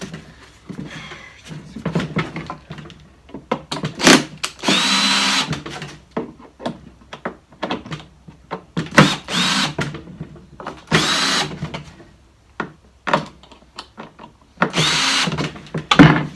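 A power screwdriver drives a screw into a Bosch AXT 2000 HP garden shredder in short, repeated whirring bursts with pauses and clicks between them, loud and close, with no talking.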